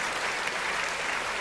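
An audience at a Hindi kavi sammelan of heroic poetry breaks into dense, steady applause, a continuous wash of many hands clapping close by throughout the short moment.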